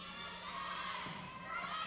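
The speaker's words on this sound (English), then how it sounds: "And you can hear the crowd explode." Spectators at a high school girls' volleyball match cheer and shout, with children's voices prominent in a sustained, fairly distant crowd roar that swells slightly partway through.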